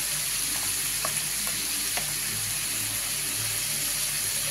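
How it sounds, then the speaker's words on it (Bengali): Ginger paste dropped into hot oil for a fish curry with arum root gives a constant, even sizzle with a few faint spatters, close-up and without any speech. "আমি দিয়ে দিচ্ছি যে হাফ চামচ আদা বাটা"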